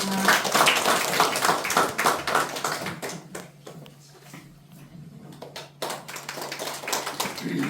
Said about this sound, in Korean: 박수로 맞이해 주시기